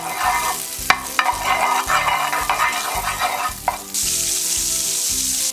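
Butter sizzling loudly in a pan at the start of making chicken koththu, a dense steady frying hiss with occasional scraping and stirring, growing harsher and louder near the end; no talking.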